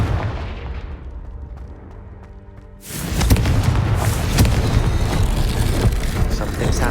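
A Confringo fire spell in Hogwarts Legacy goes off as a sudden loud boom partway through, leaving a dense roaring rumble that carries on to the end, after a quieter stretch with tonal game music.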